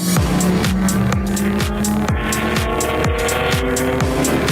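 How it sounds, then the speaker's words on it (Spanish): Racing car engines roar as a radio sound effect for a local motorsport round. Loud, continuous engine noise is broken by repeated downshifting sweeps, one after another, with no talk. "Sentí la emoción de la competencia y el rugir de motores"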